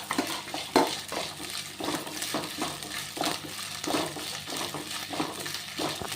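Small pieces frying in a pan while semiya upma is prepared, a steady close sizzle with repeated stirring scrapes and occasional clinks of a utensil on the pan.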